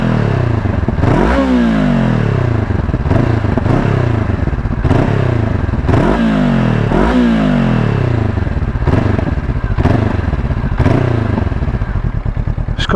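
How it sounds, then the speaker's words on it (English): A 2024 Honda Hornet 500 motorcycle with its standard exhaust on a ride, the engine revving up and easing off in repeated loud cycles, with pops on the overrun, heard close and steady with no talking. "As promised, here's a quick listen to the exhaust."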